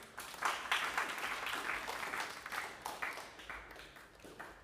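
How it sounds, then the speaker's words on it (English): Applause from a crowd at a deputies' and officers' graduation ceremony rings out at a distance, a dense patter of clapping that rises and falls for several seconds. "Clap again."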